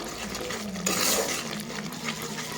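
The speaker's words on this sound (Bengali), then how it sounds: "মশলাটাকে ভালোভাবে আমি একটু কষিয়ে নেব" Masala stir-fried in a pan for a raw banana dish, a steady moderately loud scraping and sizzling with clinks of the spoon against the pan and a brief louder stretch midway.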